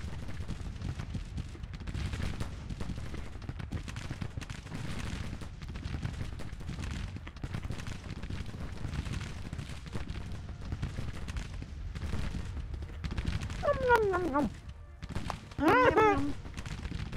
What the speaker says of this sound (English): Oh, that's a field gun.